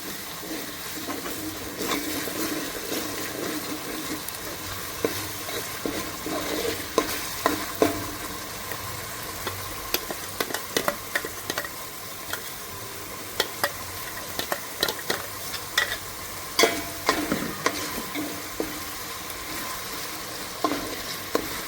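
A green paste of coriander, mint, fenugreek leaves and green chilli frying and being stirred in a pan, a continuous sizzle broken by frequent sharp scraping and tapping of the spoon, growing busier toward the end.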